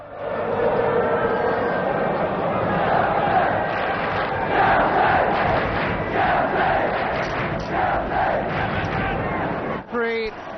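A football crowd of about 50,000 at a Chelsea versus Everton First Division match roars and murmurs continuously, a dense distant wash of voices with swelling cheers and a brief dip near the end.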